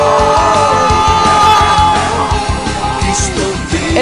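Football fans celebrating San Simón's Copa Perú 2013 championship win, a loud crowd yelling and cheering continuously over a steady pounding drum rhythm.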